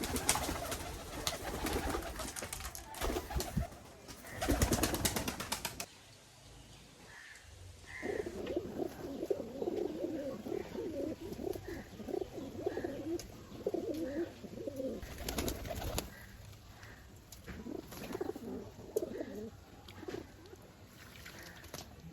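Domestic pigeons scuffling and fighting give soft, repeated cooing in a steady rhythm over a background hiss, with a louder burst of broadband noise before the cooing settles in.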